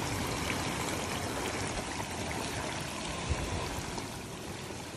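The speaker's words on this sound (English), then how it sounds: "I'm gonna run a 5-gallon bucket down this sluice here." Water runs steadily through a gold prospecting sluice on a Michigan beach, a continuous, fairly quiet broadband rushing and trickling wash that stays constant throughout, with no one talking.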